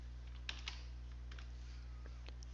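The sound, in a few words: typing on a computer keyboard in road design software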